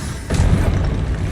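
A Confringo fire spell bursts in Hogwarts Legacy, a single loud boom with a dull low thud that swells after a brief build and then lingers as a rumbling tail, with no voices over it.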